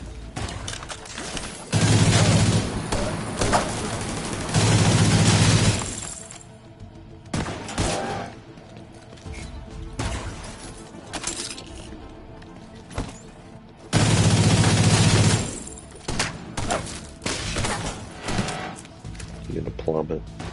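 Gunfire in The Division 2, with bursts of rapid shots and heavy booming volleys returning in waves over roughly twenty seconds, while a player talks over the fighting.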